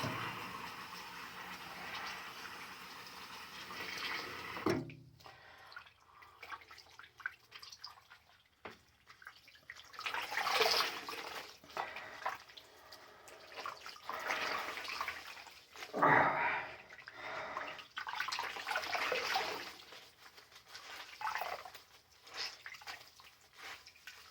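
Tap water runs and splashes into a kitchen sink during dishwashing, a steady broadband wash with drips and clatters coming and going over about twenty-four seconds, close and moderately loud, with no talk.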